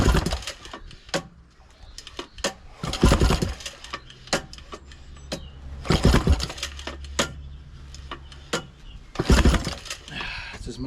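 A Yamaha 20A two-stroke outboard engine is pull-started with the carburetor set wide open: a series of sharp, sputtering bursts and rattling pulls come in uneven clusters, close and fairly loud, without settling into a steady idle.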